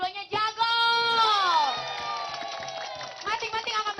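A television studio audience at a rhyming-verse battle show cheers with rising, sliding whoops and loud shouting, then settles into softer crowd noise with scattered claps before another burst of cheering.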